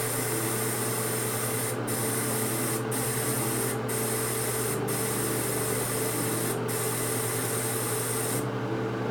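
Airbrush spraying cleaner into a cleaning bottle, a steady close hiss of air and liquid with several brief interruptions, a low compressor hum underneath, and the spray stopping near the end.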